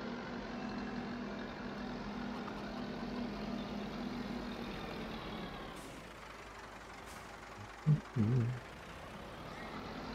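A tractor engine idles in Farming Simulator 22, a steady low diesel drone running continuously at moderate level, with a couple of brief faint clunks near the end and no talking.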